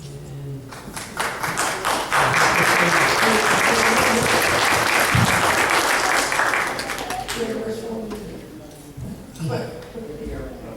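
Enthusiastic applause from a room full of people at a village board meeting swells and holds for several seconds, then tapers off as voices talk over the fading claps.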